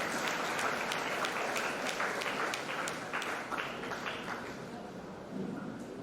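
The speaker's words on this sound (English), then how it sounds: "Please welcome Team Kalakriti with a round of applause." Applause from an audience at a youth entrepreneurship showcase, a fairly faint but steady spread of handclaps with distinct individual claps, tapering slightly toward the end.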